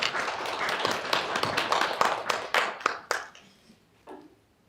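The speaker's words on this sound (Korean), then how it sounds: "우리 하나님 앞에 우리 사랑과 감사를 담아 박수 올려드리겠습니다." Congregation applauding at the close of a Sunday New Year thanksgiving church service, a dense burst of hand clapping that thins out and fades to near silence, with a few last claps at the end.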